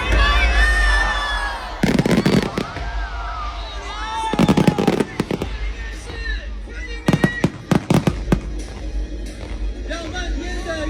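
New Year fireworks for 2024 burst at a Nanjing Yinxing Lake park music carnival: loud booming explosions arrive in clusters while a large crowd shouts and cheers continuously underneath.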